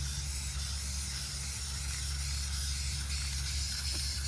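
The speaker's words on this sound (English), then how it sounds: "Cover the whole thing of paint" Steady, close spray-paint hiss from an aerosol can coating a stencil laid over green paint on a 16/48 duck boat, laying down Sitka/Optifade-style camo; one continuous even spray with no talking.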